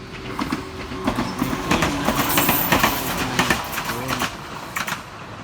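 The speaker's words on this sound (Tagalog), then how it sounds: "train yan papunta yan saan eh" Train running on rails in Japan, a steady rolling rumble with rhythmic clicking wheel beats over the track, moderately near and continuous throughout.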